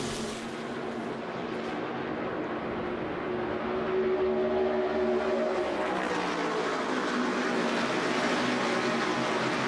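Whelen Modified race cars roaring around New Hampshire in a single-file pack, a loud continuous engine drone with shifting pitch as the field passes, no talk.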